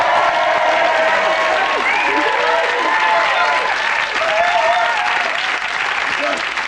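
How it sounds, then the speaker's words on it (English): A studio audience on a cookery chat show applauds steadily, the clapping mixed with some light cheering and voices rising through the crowd noise. "Round of applause, please."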